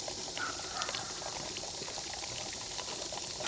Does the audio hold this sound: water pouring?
yes